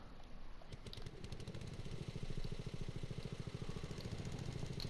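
A tractor mowing grass in Farming Simulator 22 runs with a steady, rapidly pulsing engine chug and clattering mower throughout, moderately near and constant.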